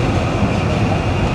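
The Paharika Express sits at Comilla railway station as passengers board, giving a loud, continuous low rumble with a faint rattling texture throughout.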